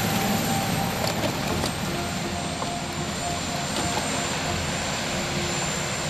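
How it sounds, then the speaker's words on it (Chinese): A presidential helicopter lifts off and flies away, a steady, loud rotor-and-turbine roar close by with a whining high tone that holds throughout without pause. "直接登上直升机扬长而去"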